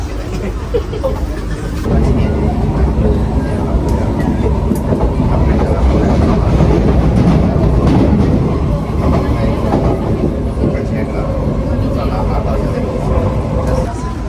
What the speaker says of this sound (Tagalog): andito na yung tren.